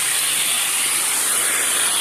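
Pressure washer spraying with the ball valve open, a steady, loud and unbroken hiss of water that holds constant throughout with no voices.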